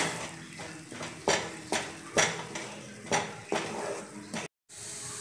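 Spices being stirred in a pan for a Bengali pointed gourd curry, a spoon scraping and clanking against the metal in repeated rhythmic strokes, close and clear, with a light sizzle underneath and a brief dropout near the end.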